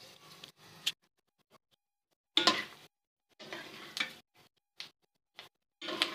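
Edible gum (gond) frying in a pan over very low flame, heard as intermittent bursts of crackling sizzle and stirring with near-silent gaps between them.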